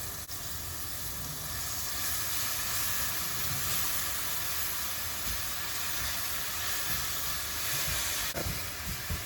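Onions frying in oil in a pan for Burmese coconut chicken curry noodles give a steady, close broadband sizzle with a continuous hiss throughout, no speech over it.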